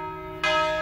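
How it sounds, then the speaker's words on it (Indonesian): A church bell tolling slowly to signal a death, heard as a single loud stroke whose ringing tone hangs and lingers, with no voices. "ini bukan bunyi lonceng tanda ibadah nih, tapi ini tanda kalau ada yang meninggal"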